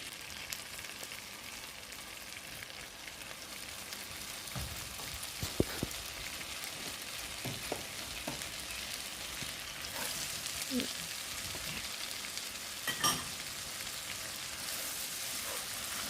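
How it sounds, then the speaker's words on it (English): Garlic sautés in butter with a soft, continuous sizzle, punctuated by occasional light clicks and stirring taps, the whole sound fairly quiet and close. "you're just gonna saute the garlic in this butter"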